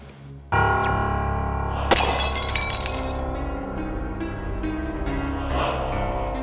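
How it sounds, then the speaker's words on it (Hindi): A glass statue shatters in one loud, sudden crash, followed by a bright spray of tinkling shards that rings on and then settles under a dramatic sustained background tone. "कांच का पुतला टूटा"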